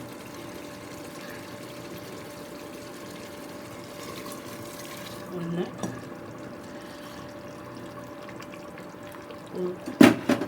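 Hot water streams steadily into a container of rice for prawn biryani, a soft continuous pour with a brief spoken word and a clatter near the end.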